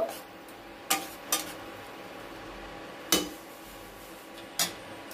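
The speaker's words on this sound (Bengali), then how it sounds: "দিয়ে আবার নাড়াচাড়া করব।" Spoon striking a pan while garam masala is stirred into a spinach curry, heard as five sharp, separate metallic clinks spaced irregularly over quiet background.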